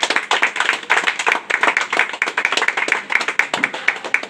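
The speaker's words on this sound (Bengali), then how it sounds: "সবাই হাততালি দাও একটু।" Audience at a pigeon-racing prize distribution ceremony clapping steadily, a dense rhythmic run of close hand claps lasting several seconds with little talk.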